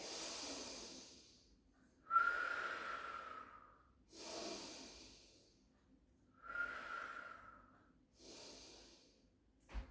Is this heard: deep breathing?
yes